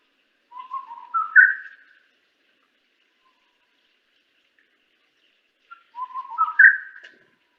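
Two separate calls of an orange-billed babbler, each a short whistled phrase rising in pitch, clear and fairly close, divided by several seconds of silence.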